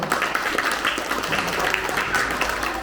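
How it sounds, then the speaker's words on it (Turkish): A crowd of children applauds at an outdoor event in Turkey, a steady, fairly close wash of clapping with some voices mixed in. "Bir daha alkışlayalım"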